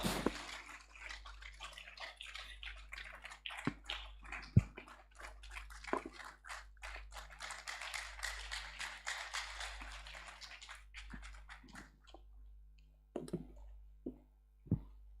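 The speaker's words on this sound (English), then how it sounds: "So let's start clapping." An audience at the Y+ Summit 2024 claps for about twelve seconds, a dense rattle of many hands that fades out, with a few scattered claps and light movement afterward.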